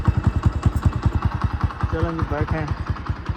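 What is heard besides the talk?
motorcycle engine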